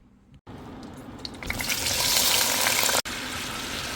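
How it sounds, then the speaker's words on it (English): Cubed red potatoes dropped into hot oil, a sudden sizzle that swells into a loud, dense crackling fry and carries on steadily after a brief cut. "So you want to just brown these cube potatoes."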